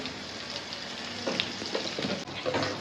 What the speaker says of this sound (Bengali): দেখেন কত সুন্দর করে ভাজা ভাজা করছি